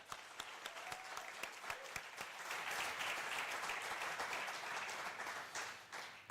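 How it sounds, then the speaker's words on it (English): An audience at a live-streamed event applauds, with separate claps at first that swell into steady, dense clapping heard at a distance and fairly faint. "Round of applause."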